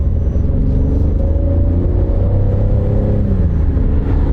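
An old Impala's engine drones steadily while driving, a loud low rumble with a smooth continuous hum heard from inside the car, no voices.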